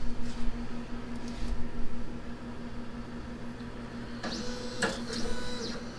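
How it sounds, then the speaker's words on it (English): Monport K40 CO2 laser cutter with an upgraded control board homing its axes: a steady low motor hum, then a brief whirring run of the stepper motors as the head travels, with no speech. "Let me home the machine."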